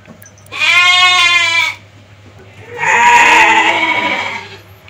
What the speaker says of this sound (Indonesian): domba-domba ini masih ragus karena memang domba ini sangat suka dengan rumput